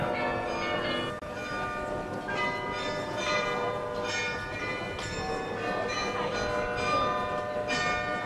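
The carillon of Munich's New Town Hall rings a sustained sequence of overlapping bell tones, continuous and resonant throughout, as heard from the square below.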